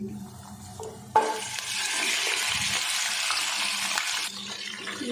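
Mutton added to hot ghee with spices for korma bursts into a loud, sustained sizzle, a sudden hiss that holds steady for about three seconds and then drops back to a quieter background.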